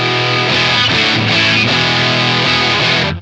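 A steady, loud guitar tone through a Mosky D250X distortion pedal, a DOD 250 clone, fizzy and heavily clipped, sustained chords ringing for a few seconds before cutting off.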